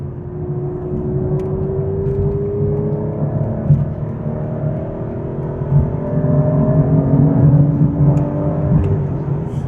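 Aston Martin V12 Vantage S engine at half throttle on wet B-roads, a steady, moderately loud mechanical drone with a gently rising tone throughout, no talking.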